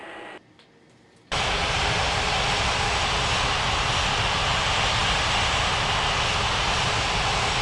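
An airliner's jet engines roar loudly and steadily while it taxis in an air traffic control game, after a brief quieter lead-in.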